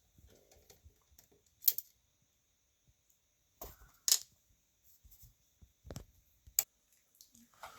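Screws come out of a Lincoln Town Car cassette deck with sparse, close metallic clicks and small taps, separated by quiet pauses and a few sharper snaps.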